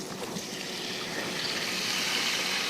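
Splashed white wine hisses and bubbles in a hot pan where scallops are cooking, a bright, steady sizzle that swells slightly toward the end, close and alone with no talking.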